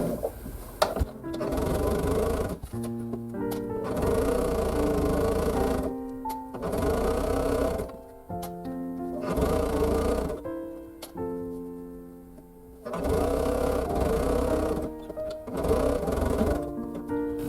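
A sewing machine stitches quilt sashing on a string-pieced star quilt, running in repeated bursts of steady whirring with short pauses between them, close and fairly loud.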